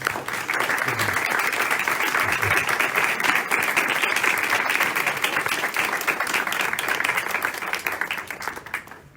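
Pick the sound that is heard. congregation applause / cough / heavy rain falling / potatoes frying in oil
congregation applause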